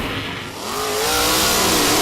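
A car at Golden Triangle Raceway Park in Beaumont revs hard, its engine pitch climbing in a rising whine as it accelerates, loud and close.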